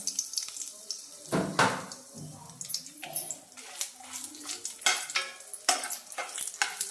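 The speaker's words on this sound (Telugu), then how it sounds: "ఎండుమిరపకాయలు మనం వేయించుకోవాలి బాగా" Dried red chillies frying in a pan for coriander chutney, with a faint sizzle and intermittent scraping stirs and clatter at a low level.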